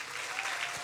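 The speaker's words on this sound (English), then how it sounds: "So what would a stage 4 applause sound like?" An audience at a science slam claps in a steady, fairly soft burst of applause, with a faint voice or two mixed in.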